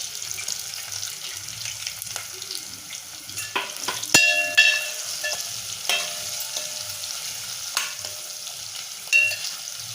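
Green chilies, ginger and garlic sautéing in a pan, a quiet sizzle with intermittent clinks and scrapes of a spoon against the pan, and a couple of louder knocks around the middle.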